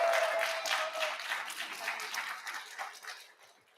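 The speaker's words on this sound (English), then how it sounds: "Give her a round of applause if you can." An indoor audience claps in applause at a campaign event, a dense patter of many hands that starts full and gradually thins and fades out.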